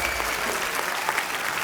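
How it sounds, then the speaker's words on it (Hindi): Dense, steady applause from a television comedy show studio audience, cheering a Paralympic medalist, in a short loud burst. "तालियां जोरदार होनी चाहिए।"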